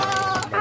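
A small, older bantam chicken gives a short run of close, clear clucks, a quick burst of throaty calls lasting under a second.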